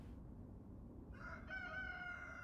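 Chickens and a rooster in the farming village game Ostriv give a short crow in the middle distance, rising over a soft ambient bed of the game world with no voices.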